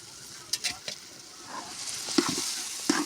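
A kilo of chicken sautés with masala and salt in a pot for biryani, sizzling steadily while a spoon stirs with several sharp scrapes and knocks, close and fairly loud.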